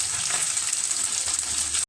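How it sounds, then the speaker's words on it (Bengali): Small mourola fish frying in hot oil, a steady bright crackling sizzle that stays even and close for nearly two seconds before cutting off abruptly, with no voices. "মাছগুলো কিন্তু আমি ভেজে নিয়েছি এখন তুলে নেব"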